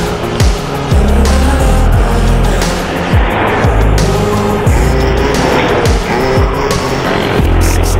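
Vehicles stream past one after another on a provincial road to Tuguegarao City via Baggao and Peñablanca, each pass-by a loud, close whoosh with tire roar, repeating roughly every second.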